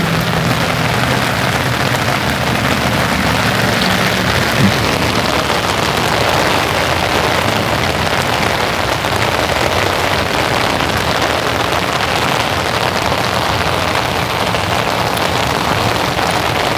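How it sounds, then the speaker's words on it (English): Steady summer evening rain falls outdoors, a loud, dense, even hiss of drops hitting surfaces that continues unbroken with no voices. "I love being out in the rain"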